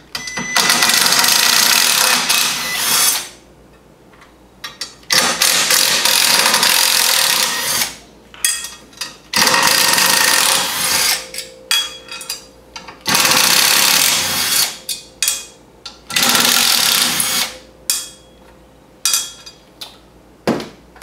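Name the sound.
removing the six bolts of the CVT secondary cap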